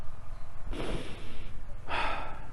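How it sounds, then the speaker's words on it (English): Slow, soft breaths drawn in and let out during a quiet meditation, two broad whooshing swells close to the listener over a low steady background, with no talking. "And become aware of your breathing."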